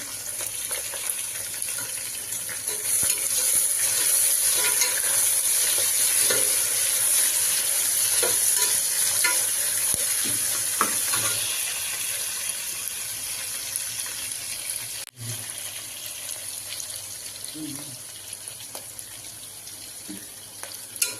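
Onions frying in a pan for tomato rice, a loud continuous sizzle with scraping stir strokes, one sharp clank near the middle and quieter frying afterward.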